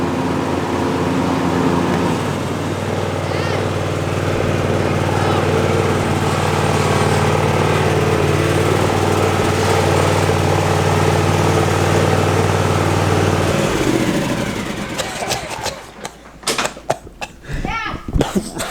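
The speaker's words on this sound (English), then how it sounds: "Got her working, boys. We got a working lawnmower." A zero-turn lawn mower's small engine drones steadily for about thirteen seconds, then cuts out, leaving scattered clatter and handling noises.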